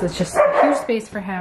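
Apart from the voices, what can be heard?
dogs barking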